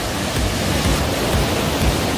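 Gusiso Falls in the Jungsanri valley of Korea roars in a continuous dense wash of falling water, loud and steady throughout with no voices.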